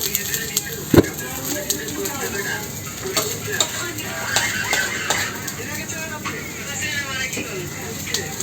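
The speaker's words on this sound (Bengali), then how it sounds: "পেস্টটাকে তেলে ভেজে নিলাম, পেঁয়াজ আর রসুন একসাথে দিয়ে।" Dried-fish paste frying in oil with onion and garlic in a pan, a continuous crackling sizzle broken by sharp scraping and clacking stirs, with a voice talking over it.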